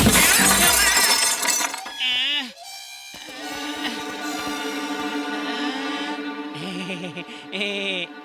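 Glass shatters loudly at the start of a comedy movie fight scene, a sharp crash with bright fragments, followed by dramatic music and sound effects under the action.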